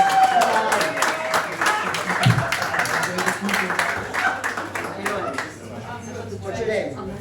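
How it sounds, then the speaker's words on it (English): An open-mic comedy audience in Germany claps and cheers in a dense burst that gradually thins out and fades toward the end. "Let's give her a big round of applause."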